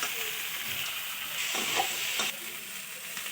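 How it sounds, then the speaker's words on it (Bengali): Potatoes sautéing with spices, salt and turmeric in a pan for a thin crab curry with potatoes: a steady close sizzle and hiss with brief stirring scrapes partway through, no voices. "এবার আলু দিয়ে ভালোভাবে কষানো হবে।"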